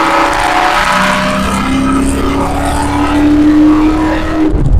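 A procharged 2004 Ford Mustang Mach 1 engine runs under light throttle with a steady, loud drone and rising tone, rumbling continuously from inside the car before cutting off at the end.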